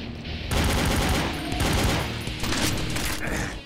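Rapid gunfire from Brutal Doom, a dense, loud burst of repeated shots and impacts lasting several seconds, heard alone without talk.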